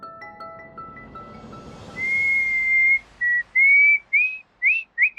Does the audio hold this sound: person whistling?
yes